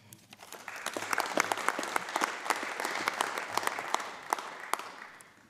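The public gallery of the Scottish Parliament bursts into applause, many hands clapping together in a sustained, moderately loud round that builds quickly and then fades out.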